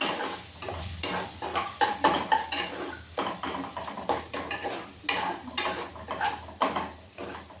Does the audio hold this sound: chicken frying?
yes